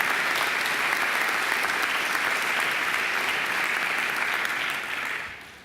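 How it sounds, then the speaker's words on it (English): Sustained applause fills the hall at a Macquarie University graduation ceremony, a thick, even wash of many hands clapping at once before it tapers off and fades near the end. "I think they deserve your applause too"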